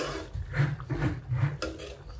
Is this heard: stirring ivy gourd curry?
yes